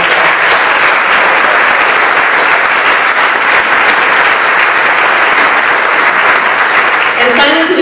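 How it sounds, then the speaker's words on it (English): Loud, sustained audience applause at a 2011 United Way campaign event, a thick unbroken wash of clapping held at full strength from start to finish, with a murmur of crowd voices underneath. "So let's give all of them behind the scenes a real round of applause."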